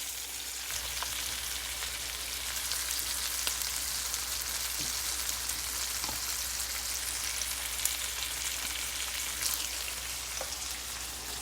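Blackened snapper sizzles in a hot pan, a steady, dense crackle of frying with occasional small pops, fairly faint and with no talk.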